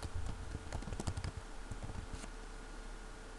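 Quick bursts of clicky keystrokes on a computer keyboard typing text, close and fairly quiet, clustered in the first second or so and then thinning to a faint background hum, with no voices.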